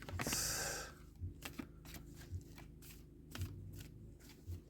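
Playing cards riffle in one quick burst, followed by soft repeated taps and slides of the deck, quiet and close with no talking.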